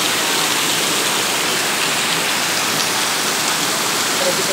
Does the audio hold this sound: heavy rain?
yes